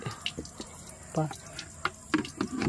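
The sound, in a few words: water added to basin for washing Honda CB 125 air cleaner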